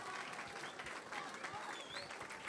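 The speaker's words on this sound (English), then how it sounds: "Give her a round of applause." Classroom applause for a student who answered correctly during a school outreach visit by an attorney general's office in Guam; steady, fairly faint clapping across the whole stretch, with some crowd murmur mixed in.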